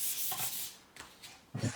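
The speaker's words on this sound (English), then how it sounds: "So I'm going to give it a little sanding" Short scratchy rubbing strokes, three separate passes of 400-grit sandpaper dry-sanding a guitar body, close and fairly quiet with pauses between.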